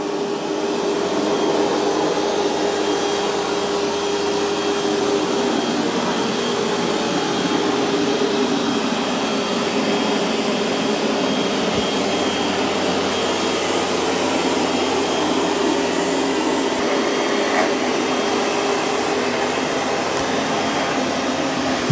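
A Roborock S8 MaxV Ultra robot vacuum and mop runs across a floor cleaning muddy paw prints beside a carpet, giving a steady, close whooshing hum with a faint whine that stays constant throughout, with no talking.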